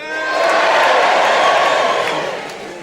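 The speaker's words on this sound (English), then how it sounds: "Big cheer from the top circle." A big crowd in the top circle of a London theatre at a live comedy show roars and cheers, swelling over about a second and sustaining loudly before tapering slightly.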